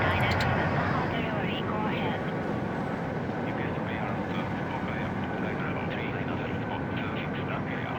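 A jet airliner taxiing to its gate in the air traffic control game I Am an Air Traffic Controller 4, a steady broadband engine roar held at an even level throughout with a faint voice beneath it.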